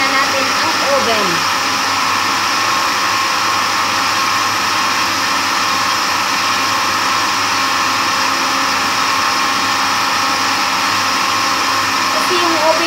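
A blender whirring steadily through creme caramel mixture, a loud, unbroken motor whine that holds an even pitch from start to finish, with no pauses.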